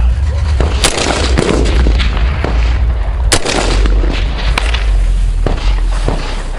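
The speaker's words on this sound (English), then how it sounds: "Let's shoot." Rifle shots are fired outdoors at a target 400 yards away: a few sharp, loud cracks spaced seconds apart over a constant rumble of wind and background noise.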